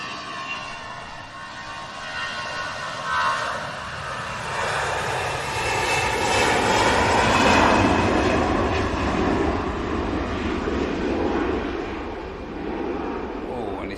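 Airbus A380 lining up and taking off, a broad distant jet engine roar swelling in loudness and holding steady, with a person talking nearby.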